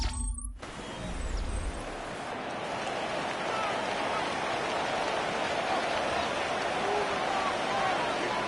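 Rain falls steadily on an outdoor football field during a Buffalo at Miami NFL game, a dense, even hiss of drops that holds constant throughout with no break.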